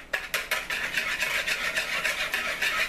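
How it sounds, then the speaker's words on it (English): A whisk scrapes steadily and briskly around a bowl as a yeast and brown sugar mixture is stirred, a close, continuous rhythmic swishing with no voices. "And you want to whisk that in until you dissolve it."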